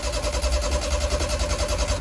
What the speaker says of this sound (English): And now it won't start again.